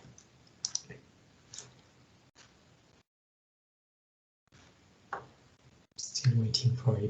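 Computer keyboard keys tapped in short irregular bursts, faint and close, with a silent gap in the middle and a louder cluster of clicks near the end.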